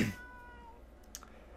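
A white cat in a video game gives one short, clear meow at the start, followed by quiet ambient game sound and a couple of faint clicks.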